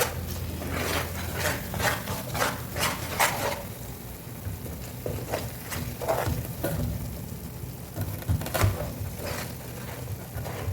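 Mysore pak mixture being stirred in a pan, a spoon scraping and rubbing in repeated strokes, with a few sharper scrapes and a faint sizzle underneath, close and fairly quiet.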